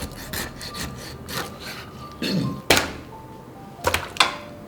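A knife sawing and chopping through the cartilage of a large 30-jin skate, with repeated rasping strokes and several sharp thunks against a board, close and fairly loud, with no talk.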